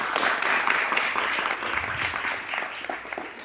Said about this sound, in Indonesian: Tepuk tangan dulu santri.